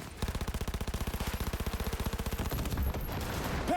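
A panzer turret in Cyberpunk 2077 fires a long, steady stream of rapid heavy shots at an even machine-gun rhythm, loud and close, before cutting off into a lingering rumble.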